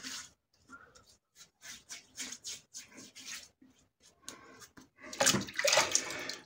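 Water splashes in short, irregular bursts as a face is rinsed at a sink during a wet shave, close and fairly quiet, with a louder flurry of splashing at the end.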